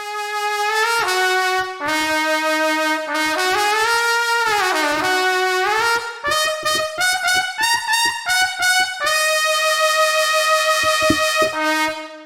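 SWAM physical-modelling virtual instrument plays a bright, reedy melodic line, close and clear. Notes glide smoothly into one another with legato slides, broken by quicker staccato runs and bursts of repeated notes, with no voices.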